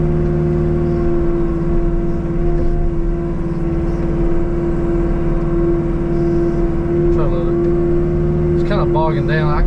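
A Virnig X30 brush cutter on a 305.5 mini excavator working a big pond runs as a steady loud drone, its engine holding a low dense hum throughout, with a brief beeping near the end.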